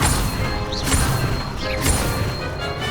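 Incendio fire spell cast in the video game Hogwarts Legacy: two sharp whooshing bursts with crackling impacts, over a busy, dense background of game effects, close and loud.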